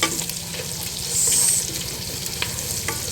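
Meat sautéing in a pan with onion and garlic, a steady close sizzle and hiss throughout with faint stirring scrapes.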